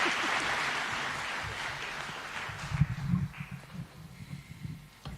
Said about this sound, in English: Tumpigeni makofi one more time